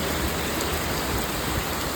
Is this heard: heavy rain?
yes